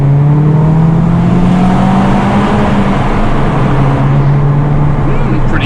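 An Alfa Romeo engine drones steadily while driving on a wet winter road and passing under bridges, a loud, continuous tone over heavy road and tyre hiss that changes little in pitch.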